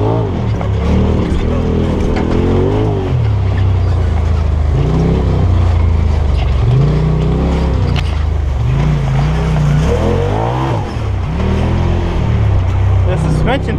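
A Polaris RZR Turbo 1000 side-by-side climbs hills at Haspin Acres with a loud, continuous turbocharged engine drone that rises and falls in pitch as the throttle changes, close and steady, with voices talking over it.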